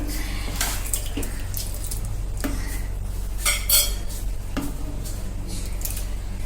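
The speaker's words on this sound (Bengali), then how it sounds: "এবার আমি এটা মিক্সির জারে নিয়ে নিচ্ছি।" Cooled, cooked mung dal spooned into a mixer grinder jar in a home kitchen: several close metallic clinks and scrapes of a spoon against the jar over a steady low hum, with no talking.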